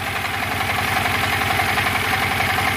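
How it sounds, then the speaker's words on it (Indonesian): A 10,000-watt Dompeng diesel engine runs steadily and smoothly at idle, its even, close, continuous drone holding at one level throughout with no voices. "Walaupun diesel dompeng tapi suaranya halus."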